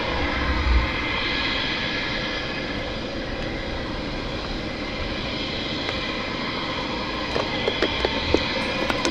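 A Typhoon fighter jet roars at an airport air display, a steady loud broadband engine rush that holds level throughout, with a few faint clicks near the end and no talking.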